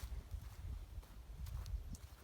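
Faint, distant clip-clop of a draught mare's hooves on hard ground in an uneven walking rhythm, under low background noise.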